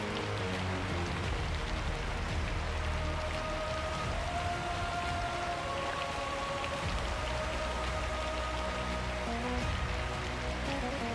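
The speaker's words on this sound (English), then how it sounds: "For 40 days, the rain falls." Steady rain falls in a continuous dense patter, a constant wash of drops with no voices and no break in intensity.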